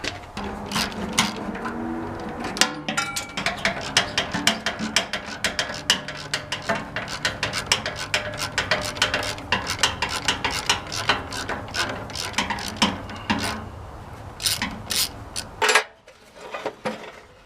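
A ratchet wrench loosens half-inch bolts on a Massey Ferguson T20 tractor, producing long runs of close, rapid clicking with occasional metallic clanks and short pauses, and no one talking.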